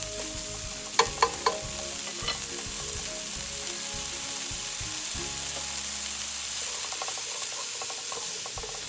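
Garlic stir-fries in a pan for Chinese shrimp in lobster sauce, giving a steady close sizzle and hiss with a few light utensil clinks early on.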